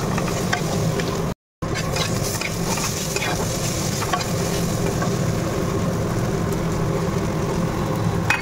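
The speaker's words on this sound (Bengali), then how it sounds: "ডালটা ফোড়ন দেবো।" Dal being tempered in a home kitchen, spices sizzling in hot oil, a steady close frying hiss with faint stirring clatter and a brief break, no talk over it.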